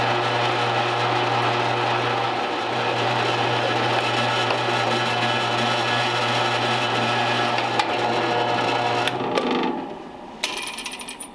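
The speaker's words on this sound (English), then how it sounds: "We took a 1/2-inch drill and drilled a hole in this." A power drill with a half-inch bit whirs steadily for about nine seconds, drilling a hole in a 1928 Ford Model A wishbone mount, with a low hum underneath, then winds down and stops, leaving a few faint clicks.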